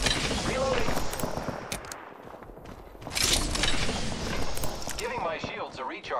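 Rapid bursts of gunfire in the Apex Legends battle royale game, dense and loud, breaking off briefly then resuming with mechanical clatter, with voices heard over the shooting.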